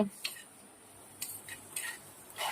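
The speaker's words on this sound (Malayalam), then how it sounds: "വെളുത്തുള്ളി പച്ചമുളക് ഇഞ്ചി എല്ലാം കൂടി ഇട്ട് വാട്ടിയെടുക്കണം" Garlic, green chili and ginger sautéed and stirred in a pan, with a handful of faint scraping and clinking strokes of a utensil against the pan spaced over a quiet low hiss.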